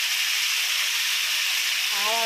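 Tomato pieces dropped into hot oil sizzle with a steady, dense hiss that fills the whole stretch, close and even, with a faint tonal whine near the end.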